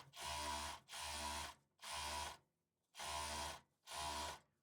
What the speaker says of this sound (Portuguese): você só vai precisar utilizar a sua máquina de overlock